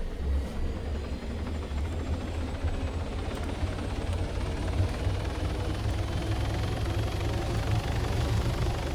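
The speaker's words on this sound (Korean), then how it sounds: "우리 팀 헬기 출발하죠" Helicopter in the ARMA 3 Exile mod game, a steady loud rotor and engine rumble that runs continuously throughout, with no talk over it.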